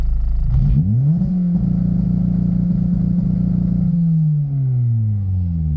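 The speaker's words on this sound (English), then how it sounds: "And then it's gonna bounce super fast off the rev limiter." The engine of an Acura RSX DC5 with a BeeR rev limiter revs up loud and close, then holds against the limiter with a rapid, stuttering bounce before the revs fall away.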